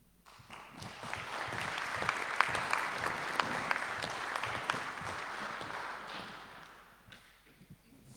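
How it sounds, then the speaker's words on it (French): Applause at a municipal council meeting, a crowd of hands clapping together in a dense, even wash that swells quickly, holds steady for several seconds, then fades away near the end. "Un nouvel applaudissement pour tout le monde en même temps"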